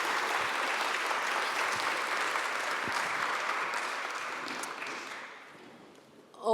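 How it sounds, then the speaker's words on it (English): Conference audience at a World Ocean Day event gives sustained, loud applause that keeps a dense, even clatter of clapping, then thins slightly near the end. "if you would give them a round of applause"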